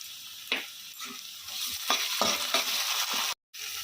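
Onions fry in a pan with a soft, steady sizzle, while repeated scraping strokes of a spoon stir them close up; the sound cuts out briefly near the end.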